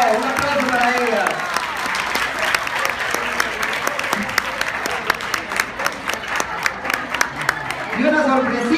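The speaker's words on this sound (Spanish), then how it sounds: "¡Bravo, chicas! ¡Bravo! ¡Un aplauso para ellas!" Party guests at a quinceañera applaud for the girls, a loud sustained clapping with sharp individual claps standing out, while voices cheer and call over it at the start and end.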